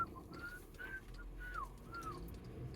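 A pet parrot riding in a car at night whistles four short, rising-and-falling tuneful notes in a row, clear over a low, quiet road rumble.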